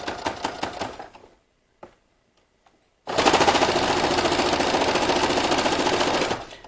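A sewing machine top-stitches along the bottom of a waistband on a vintage-style jumper, a short rhythmic burst, a pause with a few faint knocks, then a steady close run of rapid needle thumps for about three seconds.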